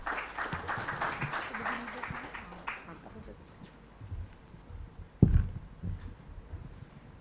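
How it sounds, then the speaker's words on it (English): Applause from a conference audience crackles for about three seconds, then fades into a quieter room with a sharp thump and a few scattered noises. "Please give him a big round of applause."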